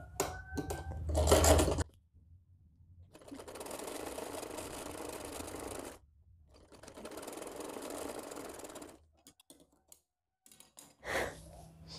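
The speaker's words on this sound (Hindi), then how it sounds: "अब नीचे पे हम एक सिलाई लगाएंगे" A sewing machine stitches a seam along the bottom of a small baby ear cap, running in several bursts of a few seconds each with short pauses between them. It is close and clear, with no talking.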